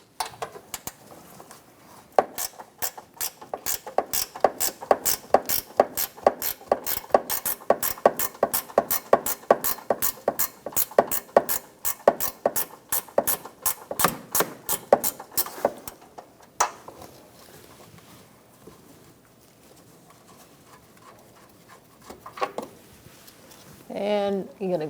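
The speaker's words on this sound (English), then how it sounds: "I'm using a 10mm ratchet wrench." A 10mm ratchet wrench removing a bolt on a 2012-2018 Ford Focus while replacing the windshield washer reservoir. It makes a long run of steady, sharp clicks up close that stops partway through, with speech near the end.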